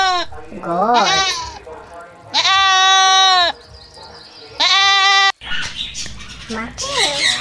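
A goat bleats loudly and close up in several long, wavering calls separated by short pauses, with a few shorter cries near the end.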